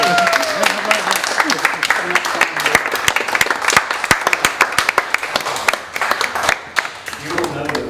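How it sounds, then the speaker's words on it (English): Wedding guests applaud the newly married couple with loud, sustained clapping from a close crowd, dense and steady for the full stretch with scattered sharp individual claps, and a voice speaks faintly beneath it. "How about a nice round of applause?"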